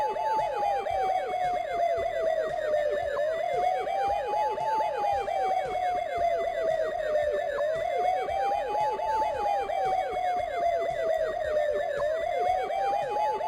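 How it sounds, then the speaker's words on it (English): A police car siren in the Police Quest video game wails loudly and continuously, cycling through rising and falling sweeps in a steady repeating pattern with no talk over it. "But I got lights and sirens"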